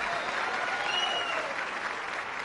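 A studio audience on a television talk show claps loudly and continuously, a dense, even wash of applause from start to finish.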